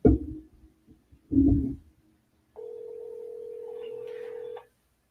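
A telephone call is placed with a steady ringback tone sounding for about two seconds after a couple of brief clatters and a short burst of handset noise.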